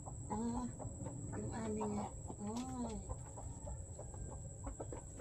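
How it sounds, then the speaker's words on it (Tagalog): Hens clucking with a rooster among them, several close, repeated calls under a noisy farmyard background, with a voice speaking briefly. "Uy, may inahin."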